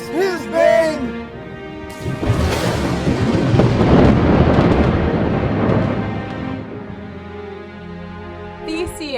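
A thunder effect rolls through a stage production of The Gospel at Colonus, a long, loud rumbling swell that builds and fades over several seconds, with brief singing or voices at its start and end.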